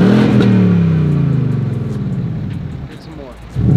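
A Ford Mustang Shelby GT350R with a manual transmission accelerates, its engine roaring loud and close as the revs climb and fall through a gear, with voices talking over it.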